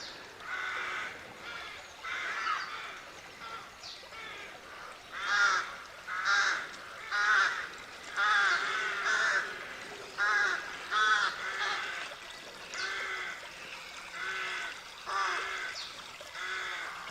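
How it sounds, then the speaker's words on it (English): Crows caw repeatedly at a steady distance, a long run of harsh, regular calls heard alone in an outdoor setting. "I can hear them, Zemerk said, are they making sea crows? but I can't see them"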